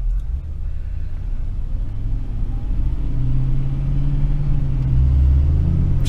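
A 1973 Lincoln Continental Mark IV with its original Motorcraft carburetor pulls away, a deep steady engine rumble that grows gradually louder and heavier over several seconds, heard from inside or close by.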